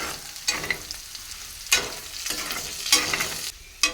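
Vegetables frying in a hot pan, a steady close sizzle broken by four louder scraping bursts of stirring at roughly one-second intervals, with no voices.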